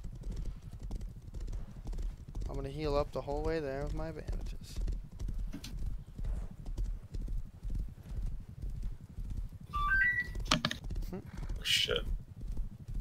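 A horse clip-clops at a steady rhythmic pace along a road in the survival video game Rust, hooves continuous throughout while someone talks over them.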